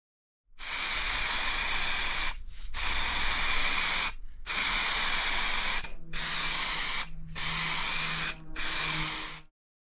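BMW M50 engine parts get a light coat of spray paint: six long hissing bursts from a spray can or gun, each a few seconds with short gaps between, close and fairly loud.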